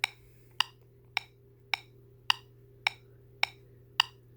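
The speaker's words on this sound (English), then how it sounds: "you definitely want to set your metronome on the jig setting" Eight sharp, evenly spaced metronome clicks on a triplet jig setting, about one every 0.6 seconds, crisp and close, with some clicks pitched higher than others over a faint low hum.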